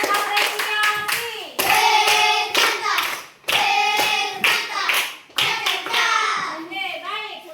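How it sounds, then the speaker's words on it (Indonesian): A classroom of children claps in a patterned, rhythmic appreciation clap for another group, with bursts of quick hand claps mixed with children's voices chanting and calling along throughout. "Tepuk tangan dulu untuk kelompok yang lain."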